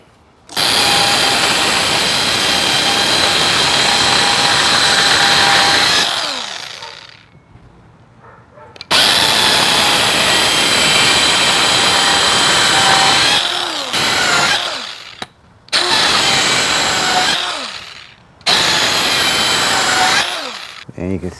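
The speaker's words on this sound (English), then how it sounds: "And then we're just gonna make some straight line cuts and then we'll chisel them all out." Loud, close power saw cutting straight lines into concrete wall block for a raised planter: several long, steady grinding bursts separated by short silences as the blade stops and restarts.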